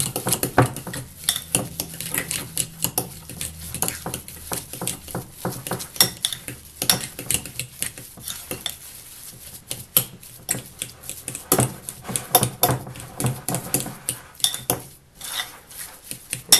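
Deviled egg filling with cayenne is mixed in a bowl, giving rapid, irregular clinks and scrapes of a utensil against the dish, close and fairly loud throughout.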